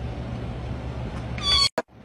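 A pet cat gives a single short, clear meow near the end, heard over a low steady background hum and followed by a brief sharp sound.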